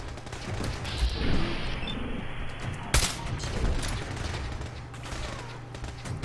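Gunfire in Fallout 4, a few sharp shots with one loud crack standing out amid clanking mechanical noises and a busy, rumbling game backdrop, with no talk.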